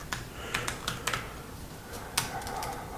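Fast typing on a computer keyboard that has a broken O key: bursts of sharp, close key clicks with short pauses between them, no voices.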